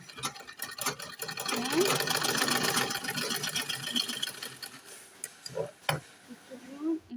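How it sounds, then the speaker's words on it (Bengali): A sewing machine stitches the neck fabric of a kameez, running in a steady close mechanical whir for several seconds before slowing into a few separate stitches and clicks, with a voice briefly audible underneath. "হলো গলার কাপড়টাকে সেলাই নিব, এভাবে সেলাই নিব।"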